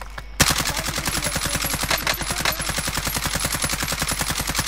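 Rapid, continuous automatic gunfire in Warzone, a steady rattling stream of closely spaced loud shots with no voices.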